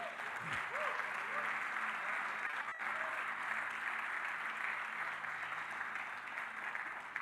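A church congregation at a Portuguese-language sermon applauds in a continuous, even wash of clapping that carries on steadily from start to finish, with a few faint voices rising briefly near the beginning.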